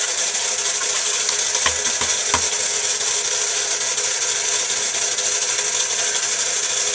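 A concrete mixer churns a load of potting mix, producing a steady, loud, rumbling roar that continues unbroken from start to finish. A few knocks rise out of it early on.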